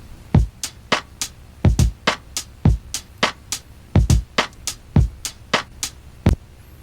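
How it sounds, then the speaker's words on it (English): A drum beat pieced together from chopped drum loop samples: punchy kicks and snappy hits in a repeating syncopated pattern, loud and upfront with nothing else playing. "So I cut up the individual samples and created my own beat out of them."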